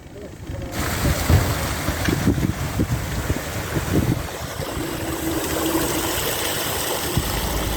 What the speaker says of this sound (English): We're just filling the pound as we have to sort of equalise the water between the two locks.